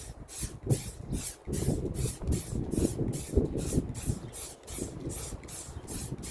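Spray paint hisses in repeated short bursts onto the back hatch of a 1996 Geo Tracker after rust treatment, a close rhythmic series of loud sprays over outdoor background noise.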